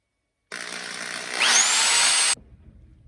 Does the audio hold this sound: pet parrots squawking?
no